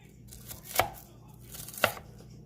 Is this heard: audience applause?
no